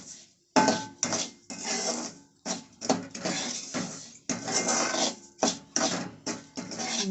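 Semolina roasting in ghee in a pan, stirred with repeated scraping bursts against the metal, close and fairly loud, with short pauses between strokes.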